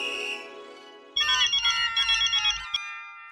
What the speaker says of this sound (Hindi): मैं मेहता साहब को फोन करता हूँ।